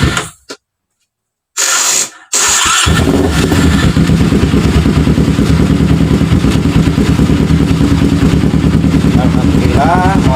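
A Kawasaki Ninja 250 with a repaired carburetor starts after a few brief silent gaps, then idles steadily and loudly up close with a rough, sputtering engine rumble.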